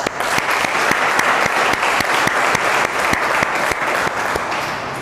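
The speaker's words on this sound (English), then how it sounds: "Please clap for Ria." A classroom audience claps for a student, loud and close. The dense applause is marked by regular sharp beats and keeps going evenly for the full five seconds.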